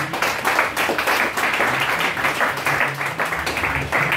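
Congregation clapping during a lively church worship service, a dense steady patter of many hands filling the room with a faint low hum of music or voices underneath.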